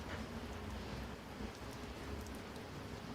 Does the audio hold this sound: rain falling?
yes